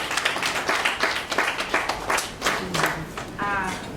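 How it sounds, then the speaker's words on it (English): Applause from an audience at a 2021 safety calendar competition ceremony, welcoming a speaker: steady, dense clapping with sharp individual claps standing out, filling the room for several seconds. "A round of applause for her, please."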